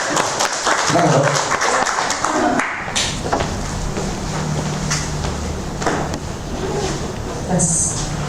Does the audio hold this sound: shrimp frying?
no